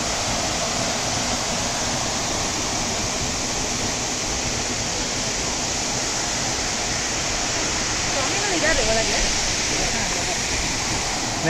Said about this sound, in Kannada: ಸೊ ಇಲ್ಲೇ ಗುಹಾಂತರ ದೇವಾಲಯ ಪಕ್ಕದಲ್ಲೇ ಜಲಪಾತ ಇದೆ